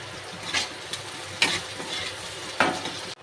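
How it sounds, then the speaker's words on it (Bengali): Onions sizzle and fry in a kadai with a little salt, a steady crackling hiss broken by several sharp spatula scrapes and stirs, close and alone without any voices. "এবার কড়াইতে আমি পেঁয়াজটা দিয়ে দিয়েছি, বাদামি মাদামি করে পেঁয়াজটা ভেজে নেব।"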